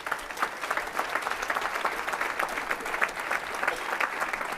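A seated audience at a gym owners' event breaks into a dense, steady round of applause, many hands clapping together at an even level throughout with no break.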